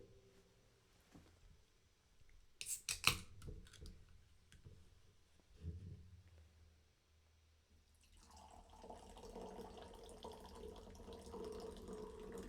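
A can of vanilla cola opened in a quiet room: a sharp crack and pop, then a steady soft fizzing hiss that continues to the end.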